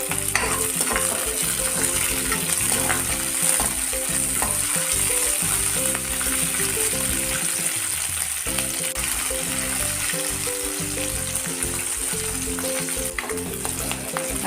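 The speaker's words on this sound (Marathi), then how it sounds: "हे तुकडे आपण या तेलामध्ये भाजून घेऊया।" Green chili pieces fry in hot oil in a kadhai with a loud, continuous close sizzle and crackle that holds steady the whole time, over faint background music and with no talking.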